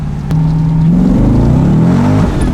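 LS1-swapped Nissan Z32 accelerating hard with its wheels spinning, a loud, close engine roar rising steadily in pitch for a couple of seconds, with no talking.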